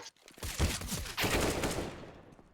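Rapid gunfire from an online shooter match, with bursts of automatic shots and sharp cracks in quick succession, then a tail that trails off into quiet.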